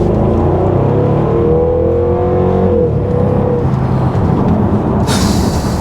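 A 510bhp Jaguar XKR engine revs and pulls while driving, a loud, steady, deep growl with a rising whine, then a sudden burst of bright hiss near the end.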